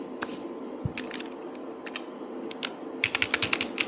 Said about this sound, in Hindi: क्लिक करने के बाद इसमें टाइप करते हैं अपना हेडिंग